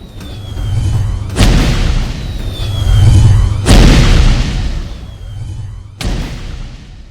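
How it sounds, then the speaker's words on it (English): Umvuthi Sunstrikes from the Iron's Spells add-on video game bombard enemies in three heavy, booming impacts, each a loud burst that decays into a rumbling tail under a continuous low drone. "an effect that continuously summons Umvuthi Sunstrikes on enemies around the caster"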